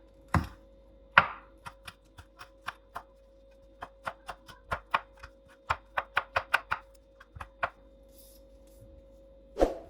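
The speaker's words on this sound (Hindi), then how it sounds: "यहाँ पे ग्रीन चिली काट लेंगे अब।" A knife chops green chilies on a board: about two dozen sharp, close taps in an uneven run, faster in the middle and sparser toward the end, with no talking.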